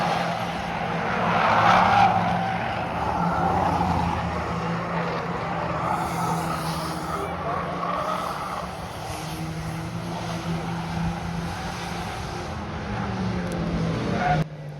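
Stock cars race the last lap at Cowdenbeath Racewall, with a steady engine drone and tire skidding at moderate distance, fading slightly toward the end and no talking.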